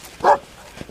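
A single dog gives one short, moderately loud bark outdoors in the field, followed by quiet background.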